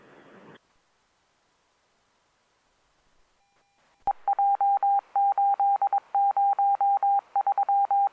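Over LAPD police radio, a landline connection starts with a short burst of radio static, then a pause and a sharp click. Steady, loud, evenly pulsed telephone tones follow, in a rapid on-off pattern to the end.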